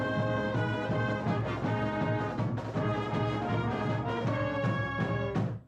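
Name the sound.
high school marching band playing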